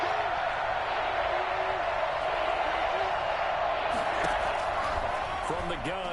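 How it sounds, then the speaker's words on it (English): Steady roar of a big football stadium crowd building before a key third down in an NFL game, loud and continuous throughout with brief whoops and bangs near the end. "The crowd getting into it as we come up on a big third down"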